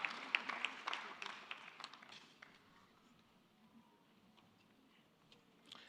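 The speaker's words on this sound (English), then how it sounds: "please give her a round of applause" Scattered audience clapping at a Nigeria Diaspora economic conference, moderately close at first, then thinning and fading to a few sparse claps and quiet room tone.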